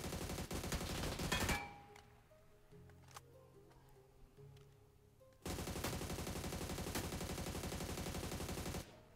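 Automatic weapons fire in the mobile battle royale game PUBG New State with dense rapid bursts, then a quieter pause with faint game sounds, and then another long sustained burst of fire.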